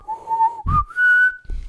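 A person whistles close by in two short, clear tones, the second higher and held longer, with a breathy rustle between them.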